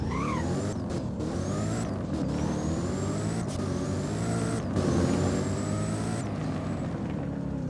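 A Jaguar-like car drives in the game Driving Empire, engine droning steadily with repeated rising gear-shift whines and brief drops between shifts, close and loud.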